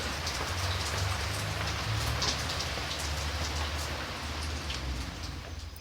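Rain falls steadily through the night around ruined buildings, a dense, even patter of drops on surfaces continuing without pause and without any voices.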